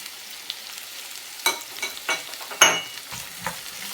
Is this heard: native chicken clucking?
no